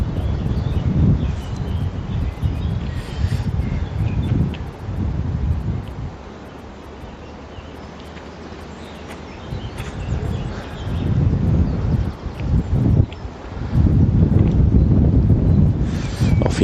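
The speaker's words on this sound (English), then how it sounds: "Hopefully that wind's not too bad" Blustery wind buffets the microphone outdoors at a carp fishing spot, a loud continuous rumbling roar that swells and eases in gusts, with a short calmer lull partway through.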